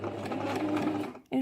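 A sewing machine stitches fabric for a bag organiser in a rapid, close run of mechanical clatter that stops abruptly near the end and then starts again briefly.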